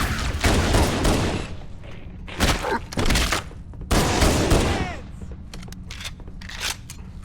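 Bursts of automatic gunfire in Halo: Combat Evolved, several loud volleys separated by short pauses, with faint game chatter and effects between them.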